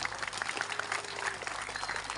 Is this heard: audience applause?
yes